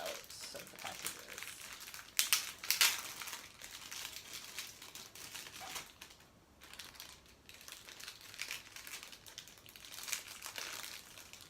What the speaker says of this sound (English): stand by for some crinkling a little bit